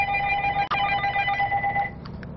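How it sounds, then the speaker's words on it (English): A telephone rings at Planet Nutrition, a nutrition supplement store, sounding a steady electronic warble for almost two seconds before a brief pause and a couple of softer trailing chirps. "The phone has been ringing off the hook at Planet Nutrition"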